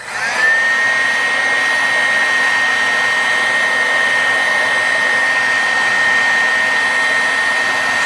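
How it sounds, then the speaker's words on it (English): A heat embossing tool blows hot air over silver foil work, a steady loud whirring hum with a high whine held without a break for about eight seconds. "And we're going to emboss this."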